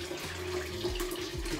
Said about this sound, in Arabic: فاصوليا نذب المي مالتها